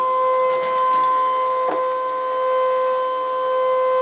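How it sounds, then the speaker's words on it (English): A scan and cut machine scans an image for label and sticker making, producing steady electronic tones with a soft mechanical whir and a brief clunk near the middle, loud and close. "So right now the scan and cut machine is scanning the entire image"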